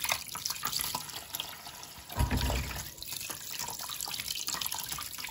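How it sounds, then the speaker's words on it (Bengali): Running tap water splashes steadily as food is rinsed under a kitchen faucet for chilli chicken, with a brief louder gush partway through and continuous close trickling. "এবার আমি ভালো করে একটা ধুয়ে নিচ্ছি।"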